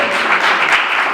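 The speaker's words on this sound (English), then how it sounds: "he deserves a round of applause just for that" A short, loud burst of steady clapping from an audience honoring state representative LaShawn Ford, even and continuous for about a second.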